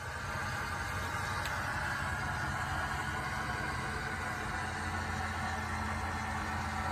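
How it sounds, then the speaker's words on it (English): Steady, continuous low rumble and hiss with a faint hum as diesel fuel fills the fuel filter water separator while priming a Ford 6.7 liter diesel, constant level throughout with no talking. "what you hear is that filter filling up"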